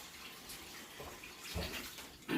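A dash of water is poured into a hot cooking pan, a soft, brief wash of splashing and sizzle heard quietly and close.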